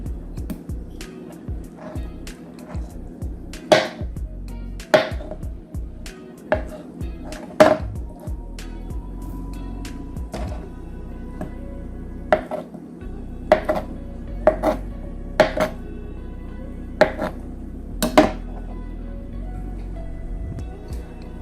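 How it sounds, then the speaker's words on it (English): Knife chopping a block of tofu into cubes on a cutting board, with a series of sharp, separate taps and knocks against the board at an uneven pace, close and fairly loud over a low background hum. "So I'm going to cut it into cubes like this"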